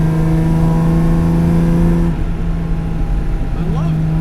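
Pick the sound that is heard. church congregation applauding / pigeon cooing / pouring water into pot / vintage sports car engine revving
vintage sports car engine revving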